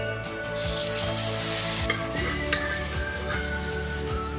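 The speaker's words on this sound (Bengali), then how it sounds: "জিরে আর হলুদ আর সঙ্গে যে ফোড়নের মশলাটা ভাজা ভাজা হয়ে গেলে দিয়ে দেবো সিদ্ধ করে নেওয়া অরহর ডাল" Boiled arhar dal goes into hot oil with sizzling cumin, turmeric and tempering spices in a kadai, setting off a loud, close, continuous sizzle with a few crackles as it settles.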